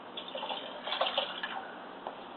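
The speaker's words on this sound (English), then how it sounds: "I'm going to put in about a 1/2 cup of water." Half a cup of water poured into a pot of Italian sausage and navy bean stew, a soft steady splashing trickle lasting a couple of seconds at low level, with no talking.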